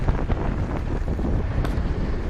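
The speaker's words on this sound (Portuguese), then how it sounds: "E a gente caminhando aqui nesse moto." Wind buffeting the microphone on a moving motorcycle ridden by two men on a rural road, a loud, constant rushing roar with rough low-end rumble and no talk.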